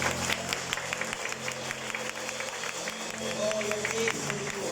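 A church congregation claps for the Lord in a continuous patter of applause that fills the room at moderate level, with faint voices mixed in.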